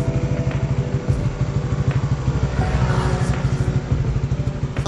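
A Honda Winner X motorcycle fitted with an aftermarket power pipe exhaust idles up close, a loud, rapid, even putter with a steady pulsing beat and a slight blip partway through.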